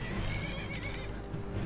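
Short, clear neigh from a horse in the Skyrim video game, a drawn-out whinny over steady hoof clatter and a low rumbling bed, heard alone without talk.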